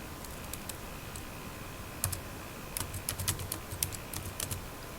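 Fingers tap on a computer keyboard while a password is entered, a faint, close, irregular patter of key clicks in short bursts over low room hum.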